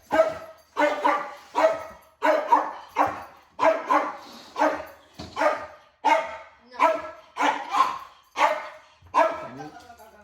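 A dog barks repeatedly in a steady rhythm of about a dozen loud, close barks across the span, with no talk over them.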